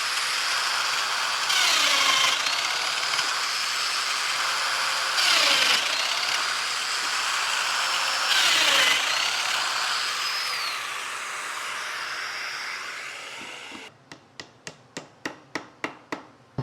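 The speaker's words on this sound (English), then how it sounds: "Then you just run a pattern bit down the slot you've created, and it will be the same width as your partition." A router fitted with a pattern bit cuts a dado across a wooden shelf board, its steady high whine rising into three loud cutting surges before it fades and ends in a quick series of sharp clicks.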